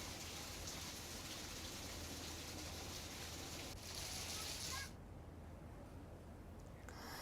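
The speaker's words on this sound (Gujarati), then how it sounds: "ગ્રામ્ય વિસ્તારોમાં પણ સાર્વત્રિક વરસાદ નોંધાયો છે" Steady rain falling across rural Gujarat fields, a dense continuous hiss that holds evenly for several seconds and then thins to a softer patter, with a crow cawing faintly in the background.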